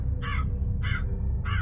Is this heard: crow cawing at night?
yes